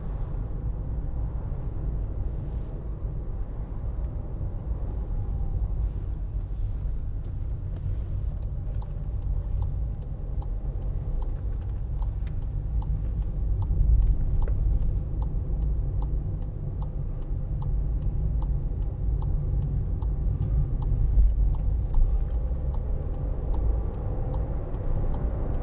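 A 2018 Skoda Fabia hatchback with a 1.0 TSI 95 PS engine drives on a busy road, heard as a low, constant engine and road rumble. Partway through, a steady, regular ticking joins in and continues to the end.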